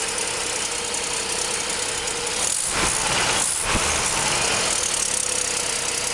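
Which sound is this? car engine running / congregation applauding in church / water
car engine running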